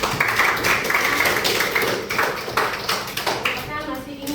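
A grade 8 math class claps for a short while: a patter of many hands in the room, mixed with a teacher's voice and pupils' chatter.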